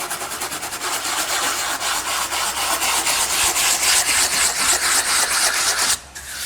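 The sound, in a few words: sanding edge of concrete countertop with sanding block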